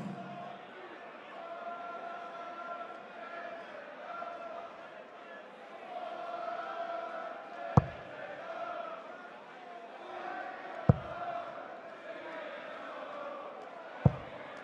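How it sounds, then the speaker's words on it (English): A darts crowd at a PDC European Tour match in Düsseldorf sings together in a sustained, droning chant, with three sharp knocks standing out above it. "the crowd are starting to sing Dave Chisnell"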